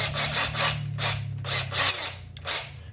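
An electric drill spins a valve from a 1975 Honda Z50A engine while lapping it with grinding compound. Close up, gritty rasping strokes repeat in a steady rhythm over a low, constant motor hum.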